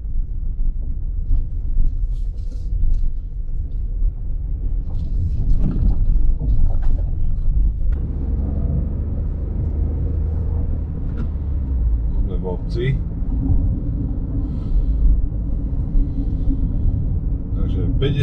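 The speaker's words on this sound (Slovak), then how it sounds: "2000 otáčok, motor krásne vládze" A Dacia Duster with the ECO-G 100 petrol/LPG engine cruises at about 2000 rpm, giving a steady low rumble with road and wind noise inside the cabin while someone talks over it.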